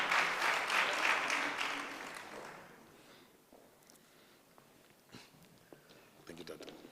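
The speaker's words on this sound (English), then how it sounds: "Let's give him a big round of applause" Mourners at a memorial service give a speaker a round of applause. The clapping is loud for about three seconds, then fades into a quiet room with scattered faint voices and a few stray claps.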